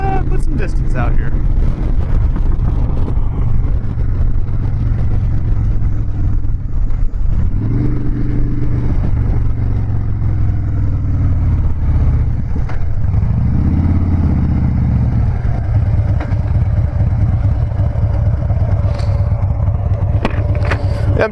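A Harley-Davidson Dyna Wide Glide motorcycle rides steadily with a loud, continuous engine drone, and two rising throttle surges swell midway through. A voice talks over the engine.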